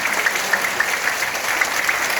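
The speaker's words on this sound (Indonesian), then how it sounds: "Sekali lagi berikan tepuk tangan yang meriah hari ini" A crowd at a Waisak celebration in a Buddhist vihara applauds steadily and loudly, the dense clapping sustained without a break and with no voices over it.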